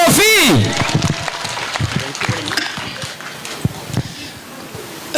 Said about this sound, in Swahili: Wapi makofi, wapi makofi.